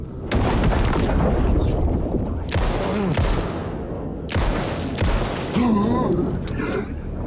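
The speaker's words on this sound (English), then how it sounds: "Flashbang doesn't even kill them in one hit." Flashbang blasts in Alan Wake 2, several loud sharp booms in sequence with ringing tails and rumbling between them, with a voice briefly audible.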